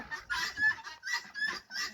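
Several small bantam chickens cluck softly in short, repeated bursts, close by with no talking.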